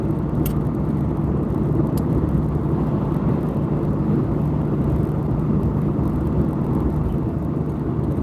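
A car cruising along the road, a steady, loud low rumble of engine and road noise heard from inside, unbroken and without talk.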